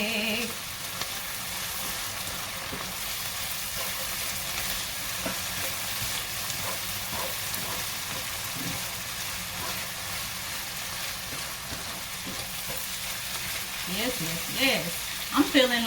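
Garlic frying in a pan for shrimp and crab etouffee makes a constant close sizzle with faint stirring scrapes. The noise swells briefly with sharper clatter at the very end.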